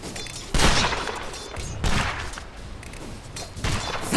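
Bursts of video game gunfire, several loud volleys spaced about a second apart with a sharp crack at each onset and rumbling decay between them.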